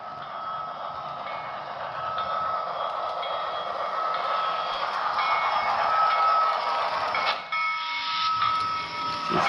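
A model train's bell rings on a Woodland Scenics Grand Valley layout, a sustained, steady ringing tone over a hissy running background that dips briefly near the end.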